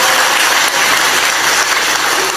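An audience at a Ramadan religious gathering in Temanggung, Central Java, applauds the deputy regent with sustained, dense clapping that carries loud and close for the whole stretch.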